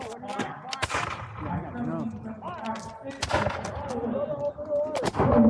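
Muskets fire in a historical reenactment skirmish, sharp cracks going off irregularly at varied distances, some near and loud, while people shout and talk throughout.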